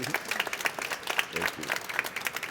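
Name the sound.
audience applause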